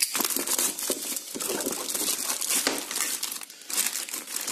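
Bubble wrap packaging around a Uhans Max 2 being unwrapped with a blade: close, continuous crinkling and rustling plastic in irregular bursts, with no speech.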